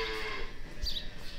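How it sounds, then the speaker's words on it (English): Calves roughly four to five weeks old low and moo in a barn, a steady close bovine drone with a brighter call standing out briefly near the middle. "so that they're not mooing so much"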